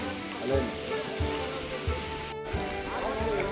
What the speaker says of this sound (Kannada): ಮತ್ತೆ ಮಳೆ ಸ್ಟಾರ್ಟ್ ಆಗಿದೆ ಇಲ್ಲಿ.